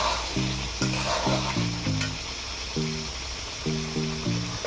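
Spicy mutton curry fries loudly in a pan, a continuous sizzle broken by repeated short scraping strokes of stirring at an uneven rhythm; close and fairly loud, with no talking.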